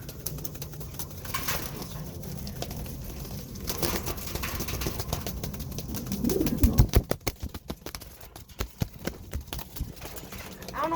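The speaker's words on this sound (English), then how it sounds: "I got more pigeons. Check them out." Several pigeons, including white flights, heard on a farm with low soft cooing murmurs under scattered knocks, flutters and clatter, busier toward the end, with faint voices now and then.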